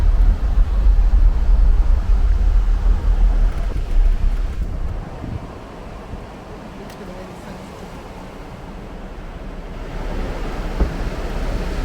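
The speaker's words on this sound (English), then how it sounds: "I could fall asleep here with the sound of those waves." Ocean waves at Daytona Beach, a continuous loud surf roar mixed with heavy wind buffeting the microphone, strongest in the opening seconds and then easing to a steady wash, with no talk.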